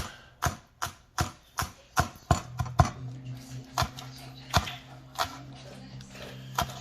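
A knife chops fresh green onions on a board for garnish in a steady run of crisp, close taps that slow and space out toward the end, with a brief murmur of voice partway through.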